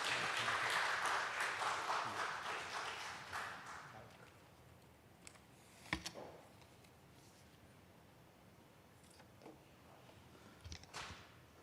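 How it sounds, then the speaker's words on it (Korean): A church revival congregation applauding to welcome the preacher, a dense wash of clapping for about four seconds that fades away, followed by near quiet with a few isolated taps and knocks. "우리 뜨거운 박수로 한번 맞이하겠습니다"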